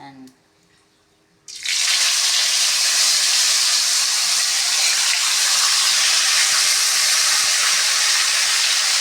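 Tilapia frying in hot cooking oil, a loud, steady broadband hiss and sizzle that starts abruptly after a short quiet moment and holds on without letup.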